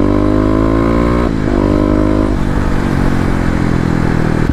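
Kawasaki KLX250 motorcycle engine heard while riding, loud and close, rising in pitch through the gears with a brief drop between shifts and steady wind and engine roar.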